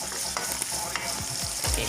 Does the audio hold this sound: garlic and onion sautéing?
yes